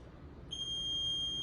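A tabata interval timer gives a single sustained electronic beep, a bright steady tone starting abruptly and holding, faint against quiet room noise.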